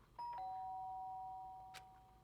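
A two-tone doorbell chime in the video game Danganronpa: Trigger Happy Havoc rings once, clear and prominent, then fades over about a second and a half in a quiet room.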